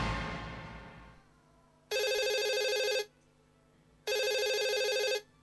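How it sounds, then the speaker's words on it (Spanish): Telephone ring effect in a radio advertisement: two even bursts of bright electronic ringing, each about a second long with a pause between, following a fading tone. "Para muchos es una llamada de teléfono."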